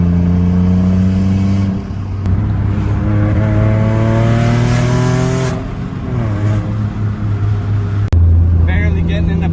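A boosted Nissan 350Z engine revs hard in long sustained pulls with steady rising and falling tones, loud and close, dipping briefly between revs before climbing again.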